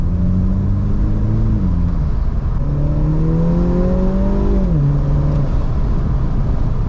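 A stock F56 Mini Cooper S engine drones loudly and steadily, its pitch rising and dipping with throttle changes and a brief blow-off near the middle, recorded close inside the car with no talk.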